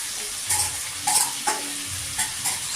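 Ginger, garlic, onion and green chili paste sizzles steadily in a hot pan, with a few soft stirring scrapes rising through the constant frying hiss; no voices.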